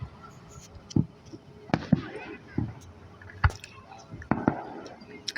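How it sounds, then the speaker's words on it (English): Fireworks at a Niles display bursting in a series of sharp, irregular bangs, some near and loud, others softer and more distant, with crackling tails between blasts and faint background voices. "I kind of wonder how they make fireworks explode in so many different ways and colors"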